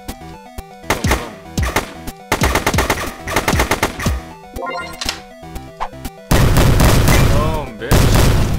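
Rapid machine-gun and gunshot bursts from a superhero video game as humans are shot, loud and dense with repeated volleys and booms, ending in a sustained roaring barrage.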